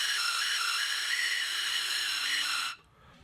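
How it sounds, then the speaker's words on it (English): Air is blown through a lampworked glass pipe whistle, producing a breathy rushing hiss with a faint thin whistle tone on top, held steadily for nearly three seconds before stopping abruptly. "I hear just a little whistle, but it's mostly just air noise."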